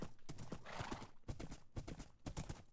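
Horse hooves clip-clop in Minecraft, a steady run of close, crisp hoofbeats in quick rhythm with a brief neigh-like tone mixed in.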